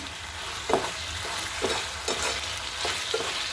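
Egg chilli stir-fried with sauces and vinegar in a pan over a full flame, a steady close sizzle broken by several sharp scraping stirs at an uneven rhythm, with no voices.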